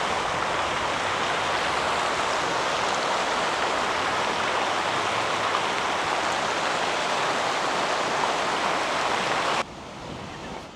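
Steady rushing water from a city fountain in central Luhansk, a broad continuous splashing wash heard close and alone, dropping abruptly quieter near the end.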